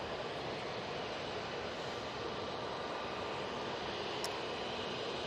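A Eurowings airliner at Manchester Airport makes a steady, moderately distant engine roar that holds evenly throughout with no talk over it.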